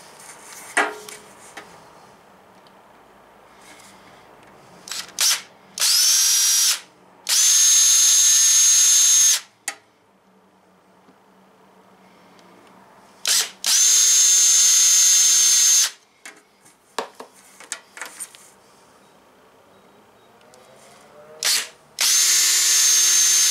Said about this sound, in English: Now we are ready to seal it, we'll pre-drill our holes